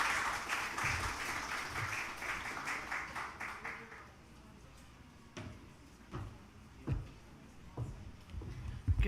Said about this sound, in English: thank the judges with some applause